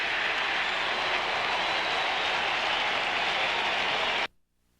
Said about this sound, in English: Cardinal fans applauding